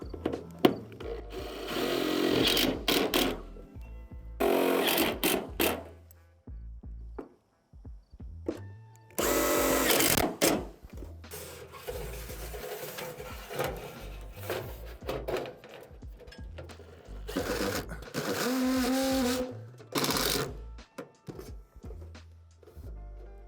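A power drill drives screws into a house gutter in repeated bursts of loud, close whirring that start and stop, separated by quieter gaps with handling noises.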